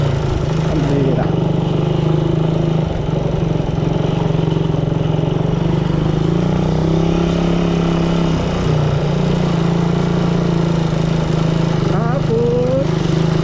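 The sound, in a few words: Honda Raider 150 motorcycle engine while riding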